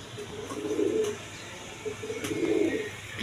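A pair of Mukki pigeons coo softly nearby, giving two short throaty cooing phrases separated by a brief pause.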